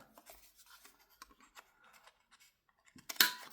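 A paper trimmer cuts small journal tags on its largest trim setting, making one brief, crisp slicing swipe near the end after a stretch of faint rustling.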